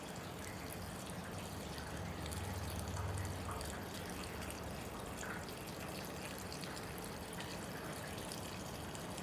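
Fuel pours through a funnel into a Westinghouse WGen3600v portable generator, a steady faint liquid trickle and gurgle that runs continuously and close, with no talk.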